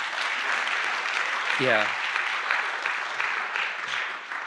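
Audience at a college lecture breaks into steady, enthusiastic clapping filling the room, with a brief spoken word over the applause.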